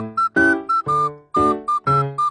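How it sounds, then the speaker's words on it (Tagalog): A majorette leader blows a loud, close whistle in a quick rhythmic pattern of short, sharp blasts with brief gaps between them. "pumito na yung leader namin"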